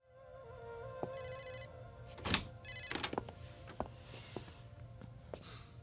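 A telephone left behind rings with a bright electronic bell in short bursts, fairly faint in a room with low hum and a few scattered clicks and shuffles.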